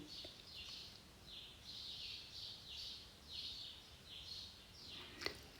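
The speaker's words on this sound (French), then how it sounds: "Le cri des martinets." Faint, repeated high-pitched screaming calls of swifts in short bursts, with small birds chirping in quiet outdoor surroundings.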